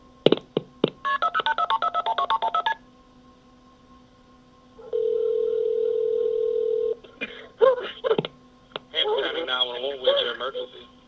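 A 911 emergency call recording opens with a rapid run of touch-tone dialing beeps, then a steady ringback-style tone, before voices speak over a clear line.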